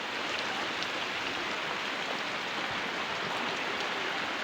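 Heavy rain pours down steadily in a continuous, dense, loud hiss that fills the whole stretch without a break, no voices present.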